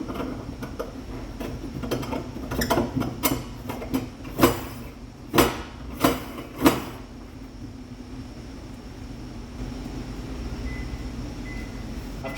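A locking nut is tightened onto the drain of a fiberglass shower pan with a wood bottom, giving a string of sharp, separate creaks and clicks that grow louder before stopping, with a steady low background hum behind them.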